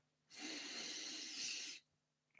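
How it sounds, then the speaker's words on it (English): A single sustained sniff lasting over a second, taken up close to a freshly unboxed Warhammer Sylvaneth miniature model kit box, breathy and hissing, then a short second intake begins. "Oh, do I have to sniff it?"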